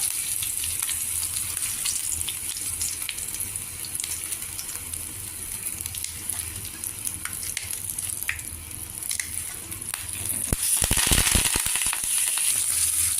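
Chopped green chillies and curry leaves frying in hot tempering oil for a cowpea curry, a steady close sizzle running throughout, with a louder burst of crackling near the end as more goes into the pan.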